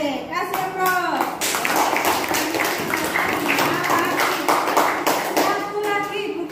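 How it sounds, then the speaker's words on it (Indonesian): A classroom breaks into applause, with a dense run of quick hand claps from many pupils held steady for several seconds, near and moderately loud, while children's voices rise over it at the start and end. "Kasih aplaus."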